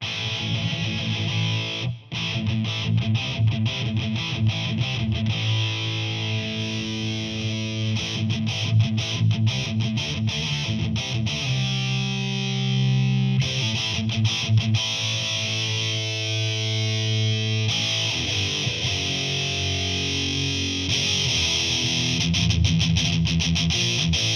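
A heavily distorted electric guitar plays sustained chords and riffs through an EQ pedal, its tone shifting brighter and duller as the 8K treble band is swept, loud and unaccompanied.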